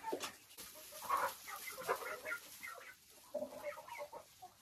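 Several hens cluck and murmur continuously, close by and overlapping, with a steady busy chatter and occasional louder squawks.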